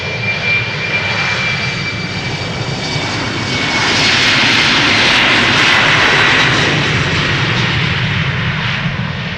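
A KLM airliner departing Amsterdam Schiphol for Düsseldorf roars loud and close with a steady, powerful engine rumble and whine, swelling slightly as it climbs past, no voices present.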